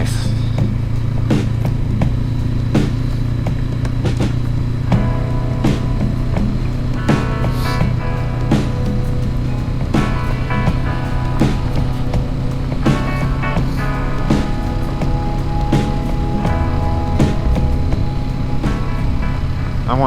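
A stock 2019 Honda CB500X motorcycle ridden off road on a trail in Oregon, its engine droning steadily the whole time, with repeated knocks and rattles from the bumpy ground and wind noise from the ride.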